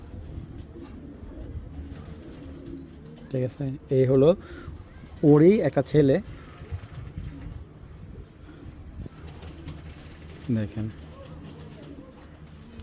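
Racing pigeons coo in short, loud bursts close by, several throaty calls spaced through the stretch while someone talks steadily underneath.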